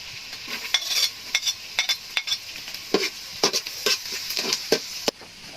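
Garlic sizzles and fries in a pan while a utensil stirs it in irregular scraping strokes, close and fairly loud, with no voices.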